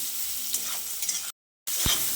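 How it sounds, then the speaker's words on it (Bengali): Soybean chunks sizzle loudly in a little oil with salt and turmeric, a dense, close frying hiss with stirring scrapes, cut by a brief silent gap before the crackle resumes. "সয়াবিনটাকে লালচে করে ভেজে নিচ্ছি"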